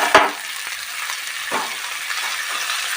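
Chopped coriander leaves fry with eggplant and tomato in a pan as a spatula stirs, giving a continuous close sizzle with a few sharp scraping strokes and no voices.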